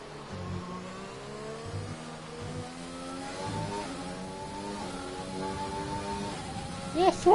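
Race car engine at full throttle down a straight in a racing video game at a Vietnam GP event, a steady high-revving drone with rising harmonic sweeps, continuous and fairly loud, with a brief louder burst near the end.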